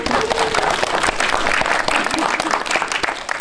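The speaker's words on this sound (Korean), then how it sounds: "박수 한번 드립니다" An audience applauds during a special guest-visit screening of a Korean film, with dense, sustained clapping from a crowd filling the room for several seconds.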